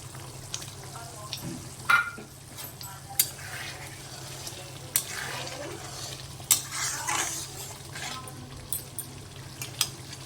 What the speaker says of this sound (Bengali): মশলাটা ভালোভাবে ফুটে গেছে, এর মধ্যে আমি টমেটোটা দিয়ে দিলাম।